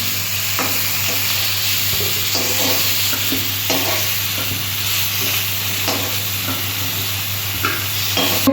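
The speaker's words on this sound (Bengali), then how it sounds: "কপিগুলো আমি ভেজে নিচ্ছি" Cauliflower pieces sizzle and fry in hot oil in a pan, a steady hiss broken by repeated scraping stirs at irregular intervals, close and clear with a low hum underneath.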